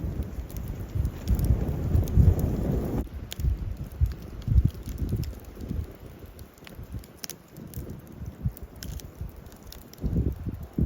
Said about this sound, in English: That wind is getting frisky.